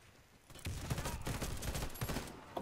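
Rapid automatic gunfire from a weapon in the Warface shooter game, starting after a brief quiet moment and continuing as a fast, loud, close stream of shots to the end.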